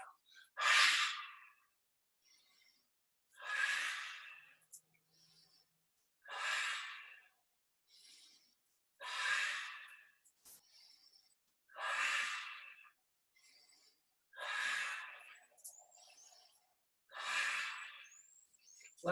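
Deep rhythmic breaths in a qigong warrior's breath exercise, seven strong airy exhalations at steady intervals with quiet pauses between, close and alone.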